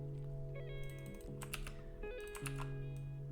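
A few sharp keystrokes on a computer keyboard as a web address is typed, scattered over a steady background music bed.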